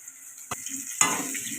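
Potatoes frying in oil in a kadai, a soft sizzle with a brief clatter and a louder burst of hissing as they hit the hot oil.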